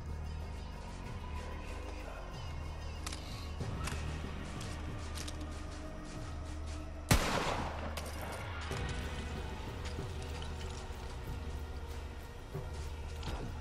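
Gunfire in Borderlands 3, a first-person shooter game: continuous rapid shots crackle under a dense, busy soundscape, with one sharp loud blast in the middle and steady combat noise throughout.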